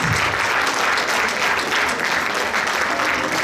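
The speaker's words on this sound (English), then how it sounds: "Give them a big round of applause, show your encouragement." An audience at a TANA Women's Day celebration in Chicago gives a big round of applause to encourage a woman called onto the stage. Loud, dense, continuous clapping fills the whole stretch with no pause.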